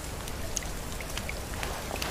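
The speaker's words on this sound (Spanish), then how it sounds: "Ahora está lloviendo, volverá a quedarse el agua." Steady rainfall in the survival video game The Forest, a dense, even patter of drops with a few sharper individual splashes, heard alone without voices.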